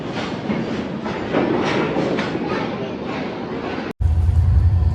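A train rumbles steadily along the tracks with a rhythmic clatter, briefly cutting out before resuming loud and close.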